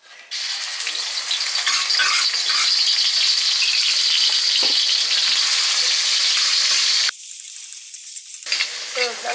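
Onions sautéing in a frying pan at a street-food stall give a loud, steady sizzle that runs unbroken, with occasional stirring scrapes and a brief drop in the hiss near the end.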